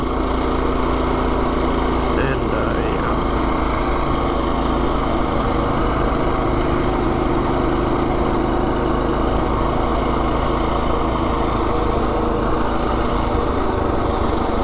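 Minibike engine running steadily while riding into Harvey, New Brunswick, a constant loud buzzing drone with wind rush throughout and no talking.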